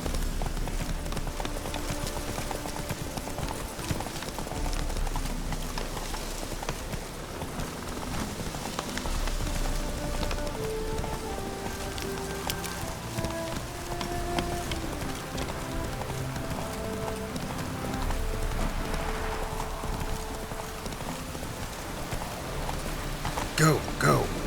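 A horse gallops in The Witcher 3 video game, its steady clip-clop hoofbeats running throughout under rain-like ambience, music and a voice speaking.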